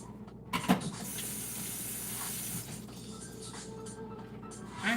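Steady sizzling hiss of vegetables sautéing in a hot pan for a hoisin noodle stir-fry, broad and continuous at moderate level, with a brief louder clatter early on and no talking.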